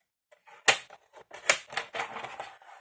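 Cardboard strips are cut for a cartonnage box in a series of sharp, dry snips and crisp cuts, irregular and close, with brief quiet gaps between them.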